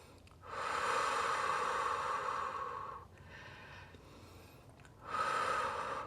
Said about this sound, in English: Breathing deeply for 5, 4, 3, 2, and 1.